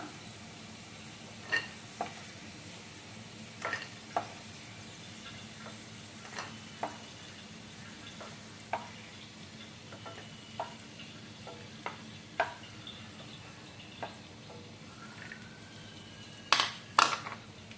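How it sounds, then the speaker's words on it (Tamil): Cashew nuts frying golden in a pan give a steady, fairly quiet sizzle, broken by scattered sharp ticks and light stirring clicks against the pan, with a short cluster of louder clinks near the end; no one speaks. "இப்போ நல்லா பொன்னிறமாக முந்திரி பருப்பை வறுத்தாச்சு."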